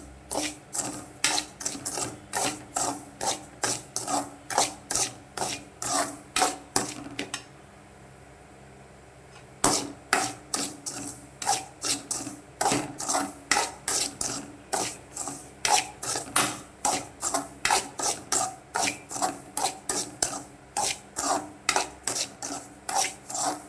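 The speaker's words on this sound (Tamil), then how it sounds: "ரவாவை நான் லைட்டாக ரோஸ்ட் பண்ண போகிறேன்" Semolina (rava) roasts dry in a pan while a spoon stirs it, giving regular close scraping strokes that stop briefly midway and then resume at the same steady rhythm.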